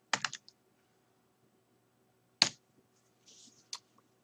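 A computer keyboard is typed on in a few short, sharp bursts of clicks separated by quiet pauses, close and fairly soft, with no voices.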